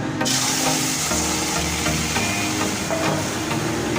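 Beef chunks, about three quarters of a kilo, dropped into a hot pot on the stove for lacha kebabs, a loud sustained sizzle with a sharp onset and clattering stirring throughout.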